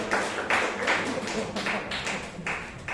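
Audience applause at a Toastmasters club meeting in Bangalore, a dense round of clapping that swells in several pulses and runs continuously from start to finish.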